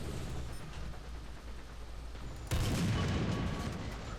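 Tank gun fire in War Thunder, a battle with British tanks: a quiet rumbling lull breaks into a sudden loud blast halfway through, followed by a heavy sustained roar of shots and rumble.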